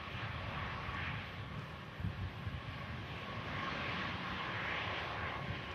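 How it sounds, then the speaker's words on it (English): An Airbus A320 arriving from Dublin rolls out after landing as its clamshell thrust reversers close, a steady broadband jet roar at a distance with gusting wind rumble across the microphone, fairly even in level throughout, no voices. "Clamshell reverses close on this 320."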